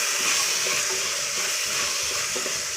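A spoon stirs a pot of soaked field beans as they cook, a steady bubbling sizzle with soft scraping strokes, close and continuous, with no voices.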